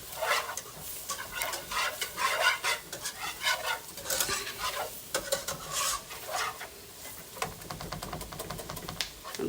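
Flour cooks in a pan for gravy with a faint, steady sizzle while a utensil scrapes and stirs in quick, repeated strokes.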